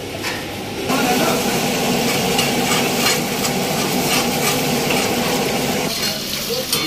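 Pieces of chicken frying and sizzling in oil for butter chicken, a steady dense crackle filling the whole stretch at close range.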